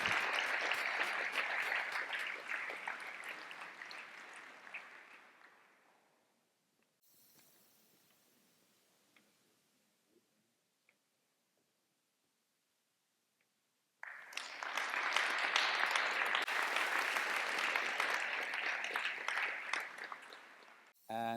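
Audience at a robotics awards ceremony bursts into sustained applause, fades to near silence, then a second loud round of clapping follows.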